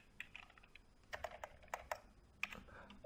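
Typing on a computer keyboard while writing code, a quiet, close series of irregular key clicks over a few seconds.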